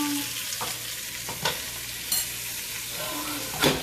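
Tomato and purple bell pepper soup being stirred in a hot pot, a steady sizzle broken by a few spoon scrapes and knocks against the pan.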